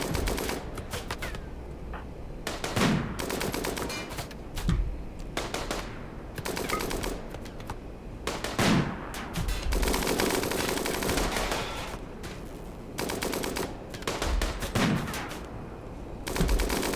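Turret gunfire in the video game Rimworld: repeated rattling bursts of rapid shots, loud and close, over a continuous bed of game noise, with no talking.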